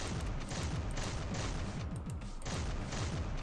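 Rapid shotgun blasts from a modded video game, each pellet-heavy shot booming in quick succession, loud and close, continuous across the stretch with no talking.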